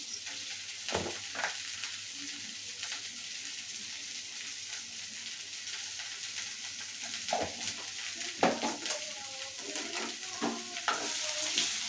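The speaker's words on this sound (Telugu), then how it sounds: "పసుపుని యాడ్ చేసి మనం బాగా మిక్స్ చేసుకొని బాగా మగ్గించుకోవాలి" Okra fry being stirred in a pan with turmeric, giving a steady soft sizzle broken by scraping stir strokes and occasional utensil knocks, close and alone with no voices.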